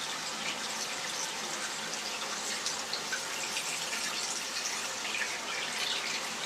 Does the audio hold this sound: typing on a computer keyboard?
no